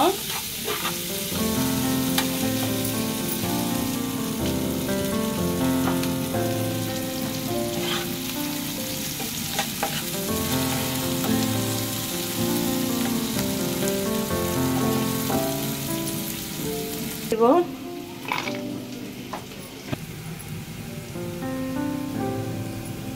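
Onions frying in a pan until golden, a steady close sizzle with occasional stirring scrapes and clinks, continuing throughout with no talk.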